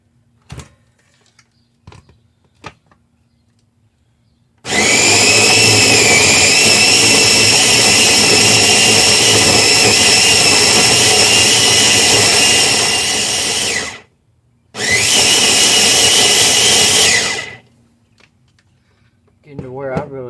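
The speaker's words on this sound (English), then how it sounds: "Getting to where I really love this little blender." A small blender roars loud and close, whining in a long burst of about nine seconds, then a shorter second burst, with faint handling clicks and quiet before and after.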